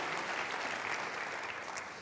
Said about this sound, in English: I want you to applaud yourself for coming right now